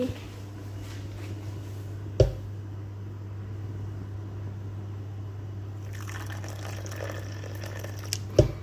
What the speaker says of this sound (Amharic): ከዛ ሙቅ ውሃ ታመጣላችሁ ማለት ነው።